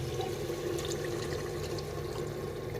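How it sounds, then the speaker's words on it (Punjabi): A glass of milk is poured into a bottle gourd curry spiced with turmeric, chili, coriander and green chili, a faint steady liquid pour running throughout. "ਆਪਾਂ ਦੁੱਧ ਦਾ ਗਲਾਸ ਭਰਿਆ ਪਾ ਰਹੇ ਹਾਂ"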